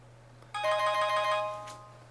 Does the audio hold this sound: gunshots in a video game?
no